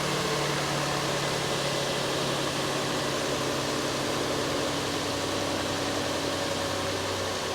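A Nissan Frontier engine idles steadily with a constant mid-pitched hum and a faint dip as the idle settles lower, heard close with no talking.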